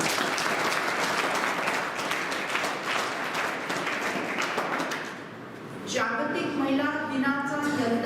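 An audience at a polytechnic institute function applauds, dense sustained clapping from many hands filling the room for several seconds, dipping briefly before a voice speaks over the fading claps.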